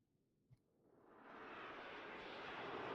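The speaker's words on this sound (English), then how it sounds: "When these planes fly over" Airplanes fly overhead during a military field training exercise in a game, their engine roar swelling from faint to a steady, loud broadband rush that builds and holds, with a single brief knock early on and no talk.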